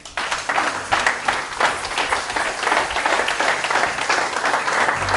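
A church congregation bursts into applause, with dense, loud clapping that runs steadily for about five seconds.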